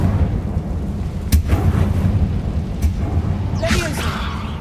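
A fire spell is cast in the Hogwarts Legacy video game on hard difficulty, with sharp cracking bursts and a roaring whoosh over a low, rumbling battle backdrop.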